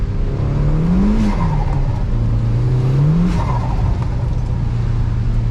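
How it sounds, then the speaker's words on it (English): Revs from a turbocharged Mazda Miata with its top down in the snow. The engine climbs and falls in pitch, swelling twice to a strong, close rev before easing back to a steady drone. "Turbo's sounding good."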